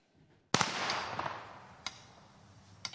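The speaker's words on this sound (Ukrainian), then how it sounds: "Траурний салют на честь загиблих героїв" A memorial gun salute for fallen soldiers, held as a unit returns from eight months defending the Svitlodarsk bulge. One loud, sharp volley rings out with a long echoing tail, followed by two fainter, spaced reports.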